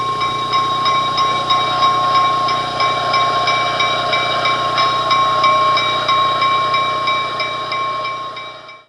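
An EMD SW1 yard switcher, locomotive number 115, runs in Bethlehem, Pennsylvania, with a loud steady diesel drone and sustained tonal whine, and no pauses or voices.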